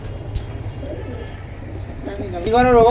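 Pigeons kept in a garden loft give a close, throaty coo near the end, after a stretch of quieter background rustle and faint murmuring.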